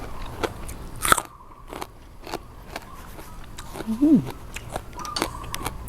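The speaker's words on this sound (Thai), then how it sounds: "ขมแต่ว่ามักกินเลยพี่น้องมันกรอบ" Crisp raw leafy vegetables eaten alongside a spicy Thai salad with boiled snails are bitten and chewed close up, with sharp crunches, a loud snap near the start and wet mouth sounds throughout.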